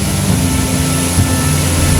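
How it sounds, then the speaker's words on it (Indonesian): A military transport plane of the Indonesian Air Force takes off from Halim Perdana Kusuma air base in Jakarta, its engines a loud, steady roar with a droning low hum and no voices. "Kedua pesawat ini lepas landas dari Lanut Halim Perdana Kusuma, Jakarta"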